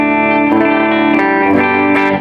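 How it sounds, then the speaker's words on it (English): Gibson Les Paul Standard electric guitar played clean through an amp with no pedals, a few ringing strummed chords and notes, bright and sustained, loud and close, fading at the end. "I have no pedals on, just going through the guitar sound"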